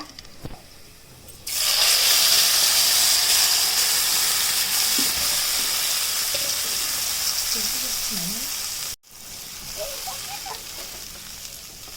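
Churned curd poured into a hot tempering in a pan for a Telugu yogurt pachadi, bursting into a loud, bright sizzle that holds for several seconds, dips briefly, then continues more softly alongside a few faint stirring clicks.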